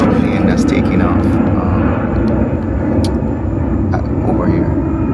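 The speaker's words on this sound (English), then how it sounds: "I would say every minute you have a plane that's taking off" A Delta plane takes off at an airport, its engines making a loud, sustained roar close by that holds steady throughout.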